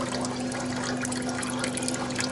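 Coolant draining out of a Nissan Skyline R33 GTST cooling system, a continuous close trickle and splash of liquid running steadily into a container under a constant low hum.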